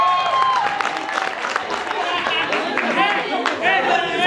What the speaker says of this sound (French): Bravo, applaudissements